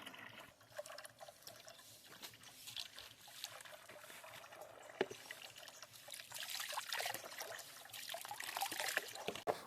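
Water trickling and splashing quietly as ash is poured in and stirred to make a soaking bath for dahlia tubers, soft irregular pouring that grows busier toward the end.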